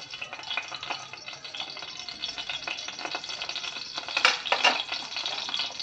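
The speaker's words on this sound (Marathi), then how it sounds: "आता मी ह्याला फोडणी देते." Mustard seeds crackle and sizzle in 3 to 3.5 spoons of hot oil tempering in a pressure cooker for quick prawn rice, a dense steady frying hiss with sharper popping bursts near the end, close and alone.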